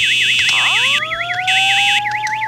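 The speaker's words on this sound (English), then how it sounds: "You will hear the horn and then pull." A fire alarm horn set off from a pull station in the Roblox video game gives a loud, continuous electronic warbling tone with rising sweeps layered over it. No one talks.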